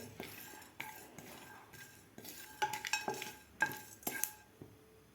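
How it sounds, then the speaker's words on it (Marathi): Whole spices and cumin dry-roasting in a pan, a series of close metallic spoon scrapes and clinks against the pan with a faint crackle between strokes. "सुरुवातीला आपल्याला यामध्ये खडे मसाले आणि जिरे एक मिनिटभर थोडंसं भाजून घ्यायचं आहे"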